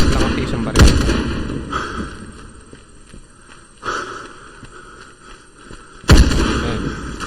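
Gunfire in the zombie shooter video game Into the Dead 2: three loud, sharp shots spaced a few seconds apart, each followed by a ringing decay, over a droning background hum.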